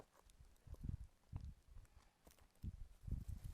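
Horses walk on a hard track, hooves clip-clopping in an uneven rhythm in several bursts, moderately close but quiet, with no talk.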